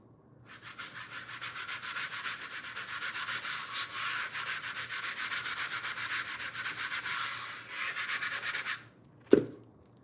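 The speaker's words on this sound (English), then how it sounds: "It's dotted and rubbed out." Steady rubbing and sanding-like scrubbing as paint dots are rubbed out to create a stone texture on a cheap plastic piece, a continuous close scratchy sound for about eight seconds, ending with a brief knock.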